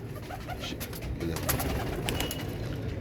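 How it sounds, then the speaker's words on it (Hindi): Teddy pigeons coo softly and repeatedly nearby, low throaty calls over a faint outdoor background. "अब दोस्तों देखो टेडी कबूतर आ रहे हैं दोस्तों"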